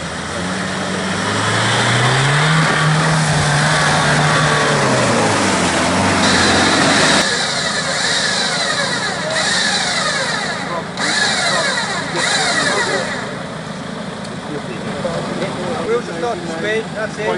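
A car at Eastnor Castle rolls downhill and drops into first gear, its steady engine rumble shifting pitch partway through and then settling into a rougher drone, loud and close throughout.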